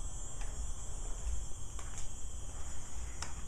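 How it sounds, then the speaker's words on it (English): Crickets chirp at night in a steady, continuous high trill with faint, soft clicks over it, picked up by a Kodak Zi8 pocket camcorder. "If you can hear the crickets, how well you can hear them."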